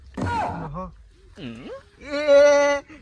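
A voice imitates a goat's bleating in a few wavering, nasal calls: a short burst, a brief rising-falling cry, then a longer sustained bleat, loud and close with no other sounds around it.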